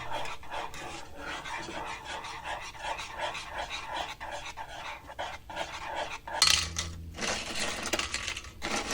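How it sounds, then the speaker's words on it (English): Crunchy, crackling rustles as crisp tortilla chips are handled and shifted for nachos, a steady series of dry crunches close by, with a louder burst of rattling near the end. "Can you guys hear how crispy the chips are?"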